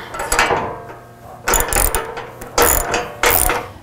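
Ratchet clicking in repeated bursts while the latch bolts on a CBI Offroad steel rear bumper for a Toyota 4Runner are tightened, three or four close, loud pulls separated by short pauses.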